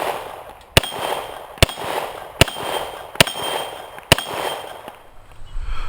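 Five evenly spaced pistol shots from a polymer-frame CZ P09 with a red-dot sight, fired single action at a steel plate rack outdoors, each a sharp loud crack followed by a short ringing tail.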